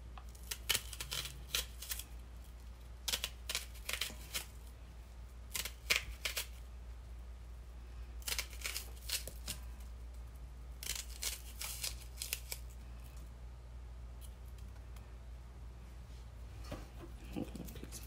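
A knife chopping onions on a cutting board gives quick clusters of crisp cuts with short pauses between them, close but fairly faint, with no talking.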